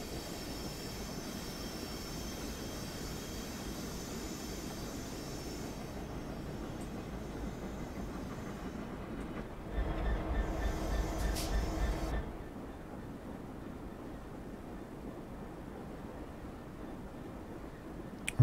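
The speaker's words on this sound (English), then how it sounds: "To me it sounds like a steam engine." Steam locomotive in Train Sim 2019 on the Trent Valley route, a steady low chuffing rumble that swells louder for a couple of seconds midway, then drops back to a quieter hum, with no voices.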